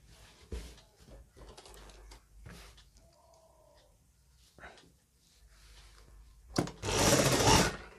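A sewing machine stitches a back pocket onto men's trousers, a short loud burst of running near the end after a stretch of nearby talking and light handling noises.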